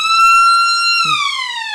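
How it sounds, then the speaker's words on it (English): Siren sounding at a country football league match between Hill End and Mirboo North: a loud, steady wailing tone that holds, then drops lower in pitch, with faint crowd noise beneath. "I think the siren's just about to go."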